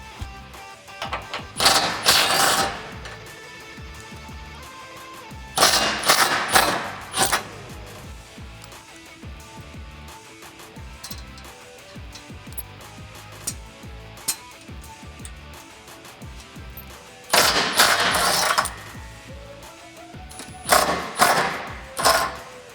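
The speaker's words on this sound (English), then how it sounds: "I'm going to be removing them with a 19mm socket" Bolts on the rear bumper of a 1987-2006 Jeep Wrangler YJ/TJ being loosened with a 19mm socket, heard as bursts of ratcheting and metallic clicking that come and go between quieter mechanical handling.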